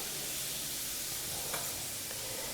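Shrimp sizzling steadily in a pan while being stirred, with fresh chopped oregano added; a continuous close hiss of frying with a couple of brief scraping clicks from the stirring.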